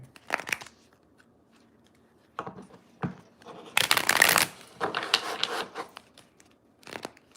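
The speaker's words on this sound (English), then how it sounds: "Let's just get a good shuffle." Tarot cards of the Universal deck being shuffled by hand, with bursts of riffling and slapping separated by short pauses, close and moderately loud, no talk.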